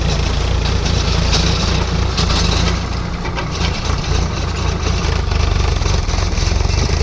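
A tractor engine rumbles loudly and steadily in a field while spreading soil and manure, a continuous low mechanical drone with no pauses.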